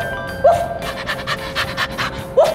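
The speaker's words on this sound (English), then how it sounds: "It's a dog!" A dog panting close by in quick, breathy rhythmic bursts, with a couple of squeaky whimpers.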